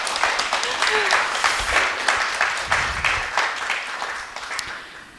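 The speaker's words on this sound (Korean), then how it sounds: "그럼 박수로 모실까요?" An audience at a book club talk with an architect applauds to welcome the speaker, dense clapping that swells and then fades, with some voices mixed in.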